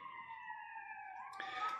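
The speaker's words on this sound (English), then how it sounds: "Sirens. All right. Perks of my new neighborhood." A faint siren wails in the distance, its tone sliding slowly downward before a brief burst of louder noise.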